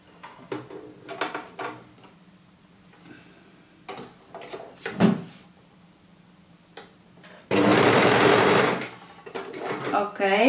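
Domestic sewing machine stitching a thin purple bikini strap, a loud continuous whir of about a second near the end, preceded by scattered ticks and handling clicks with a voice talking intermittently.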